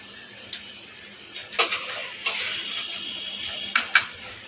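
Ground nuts are stirred into a cooking pan with a spoon, making soft scraping and a light sizzle, with a few sharp clinks of utensil on metal.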